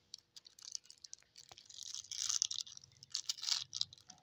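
Plastic wrapper is peeled off crab sticks in close crinkling, tearing rustles, sparse light crackles first and then a denser, louder stretch of crackly peeling, with no talking.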